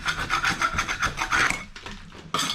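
A scraper scrapes old, scored wallpaper off a wall in quick rasping strokes, a steady rhythmic scratching that stops briefly and then resumes with one more stroke, heard close and alone.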